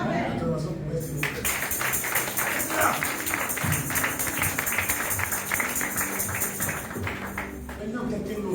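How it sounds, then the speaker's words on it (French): A church congregation at a French-language service breaks into sustained cheering, acclaim and clapping, a loud, broad roar lasting several seconds with a preacher's voice over it. "Acclamation pour être sauvé"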